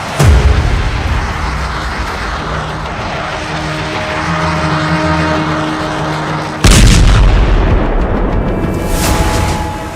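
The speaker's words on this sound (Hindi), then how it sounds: "पश्चिमी यरूशलेम में मिसाइल अटैक, तेल अवीव के करीब बेत शेमेश में हमला।" Missile attack in West Jerusalem and Beit Shemesh, recorded in news footage: a heavy, continuous rumble is followed by a sudden loud blast-like surge near the end.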